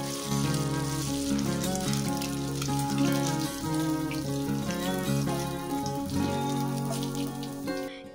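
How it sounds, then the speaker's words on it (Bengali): Small fish sizzle steadily as they fry in hot mustard oil, a continuous crackling hiss running the whole stretch beneath fairly loud background music with sustained melodic tones. "সর্ষের তেল ভালো গরম হলে কিছুটা মাছ দিয়ে দিচ্ছি ভাজার জন্য"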